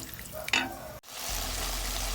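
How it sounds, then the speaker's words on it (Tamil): Water poured into a pan of cooking mutton for a Pallipalayam fry, a short stir and clatter followed by a sudden surge of steady bubbling and hissing as the liquid meets the hot meat, close and continuous. "கறி வேகிற அளவுக்கு தண்ணி ஊற்றிக்கோங்க."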